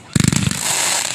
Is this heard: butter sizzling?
no